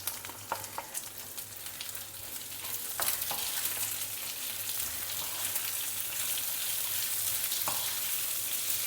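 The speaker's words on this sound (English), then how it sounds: "Lightly stir fry it also in the oil, along with a small piece of tamarind." Sliced onion and whole dry red chilies stir-frying in oil with a piece of tamarind, a steady soft sizzle with scattered crackles and occasional pops, gradually thickening, no talking.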